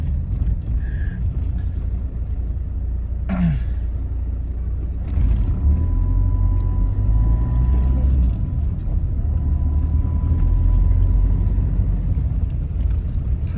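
Cars pass along a busy Turkish street near a market, a continuous close rumble of traffic with engines swelling and fading, a sharp passing burst early on and a sustained tonal whine midway; no talk is heard.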